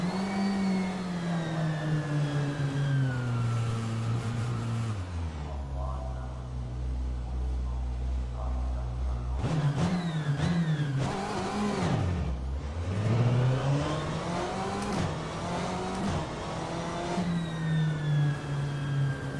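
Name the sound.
race car engine throttle-off sound in rFactor 2 video game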